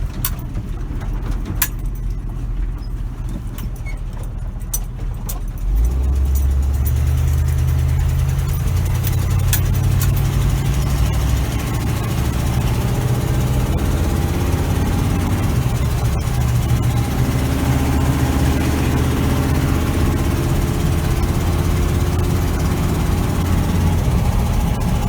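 A lifted 1977 Chevy K20 truck engine rumbles at idle, then grows louder and deeper as it settles into a heavy, steady low throb that continues with slight revving throughout.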